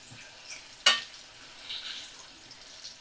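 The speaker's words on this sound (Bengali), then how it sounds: "তো হালকা করে আলু ভাজবো" Potatoes frying in oil over a medium flame: a steady, soft sizzle with a sharp utensil scrape or stir near the start, then continued gentle crackling.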